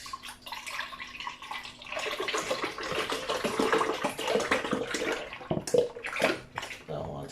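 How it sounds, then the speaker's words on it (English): Almond milk poured from a carton into a container, a continuous close liquid glugging and splashing lasting several seconds, with a speaking voice heard at times. "the first thing I'm going to be doing is pouring my almond milk out."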